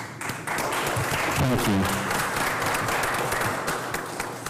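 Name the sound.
applause at a county commissioners court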